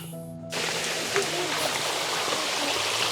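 Water flows down from a hilltop in a steady, dense rush that starts abruptly and continues unbroken, close and loud, with faint voices briefly audible underneath.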